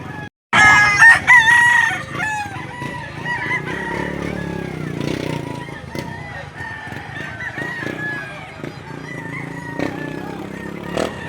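Roosters crow and chickens cluck among the caged fowl of a poultry market, loud and close with several overlapping calls, while voices murmur underneath and a motorbike passes in the background.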